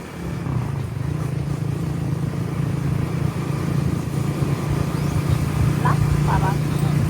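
Two motorcycles ride together, a steady engine drone running throughout at moderate loudness, with brief chirps or voices near the end.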